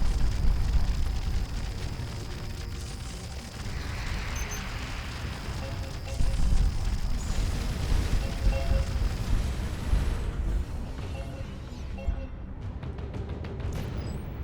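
Weapon fire and explosions from the space game Starcom Nexus roll on as a loud, continuous rumble with repeated bursts and booms, a deep low-end roar that stays heavy and only thins slightly near the end.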